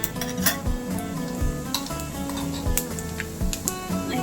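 Mustard seeds and cumin hit hot oil for a tempering, crackling and popping in quick irregular bursts with a low sizzle and a few clinks of a pan and spoon close by.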